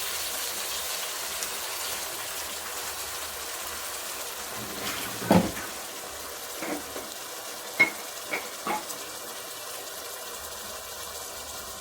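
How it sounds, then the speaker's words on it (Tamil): Chicken pieces dropped into a pan of sautéing onions for a spicy green chilli chicken gravy, giving a steady low sizzle with a few louder clatters and stirring scrapes, no talking. "நான் இப்போ சிக்கன் சேர்த்துக்க போகிறேன்."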